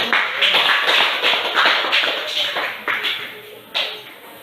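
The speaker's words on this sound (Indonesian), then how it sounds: "Kita kasih aplaus dulu." A classroom of students applauding a presenting group, a loud, dense burst of clapping that carries on for several seconds with a few sharper claps standing out.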